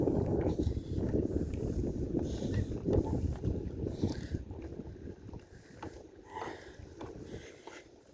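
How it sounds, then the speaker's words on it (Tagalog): Outdoor wind at a tilapia fish pond, a low rumbling buffet across the microphone that gusts and eases over several seconds, with faint rustling and water-like movement underneath and no talking. "Sarap ng hangin."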